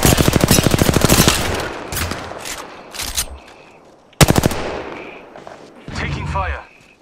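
Video game gunfire, a loud rapid automatic burst followed by scattered shots and another heavy blast, with voices talking over parts of it.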